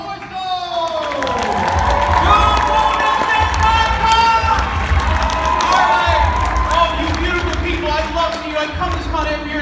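A Zenkaikon 2019 convention crowd at the voice actor panel cheers, whoops and claps loudly for the host, a dense, sustained roar with shouting voices throughout.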